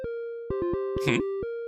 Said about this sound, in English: What on earth is the ringtone this time?